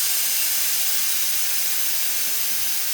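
Air rushes out of the airbags on a Handy Sam 1200 motorcycle lift as it lowers, producing a loud, steady hiss that holds unbroken throughout with no voices.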